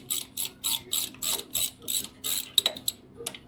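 Ratchet wrench turning bolts back into the rear of a truck transmission during a swap: a steady run of close, regular clicking strokes, about three per second, then a few looser metallic clicks and taps.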